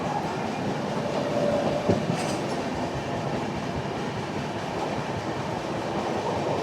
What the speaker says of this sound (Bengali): তো চলুন ততক্ষণ পর্যন্ত এই ওয়েদারে একটু মজা নিই।